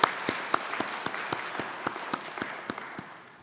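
Applause from a church congregation for a choir after a worship song: a small group clapping in a loose, fairly regular rhythm of distinct claps that slowly fade.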